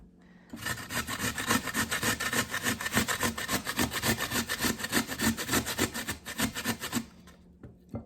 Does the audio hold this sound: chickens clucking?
no